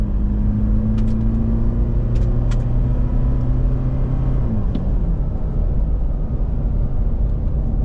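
Engine of a 2023 Toyota SW4 SRX revving steadily, its drone dropping as a gear change comes through, close and continuous with a faint whir on top and no talk.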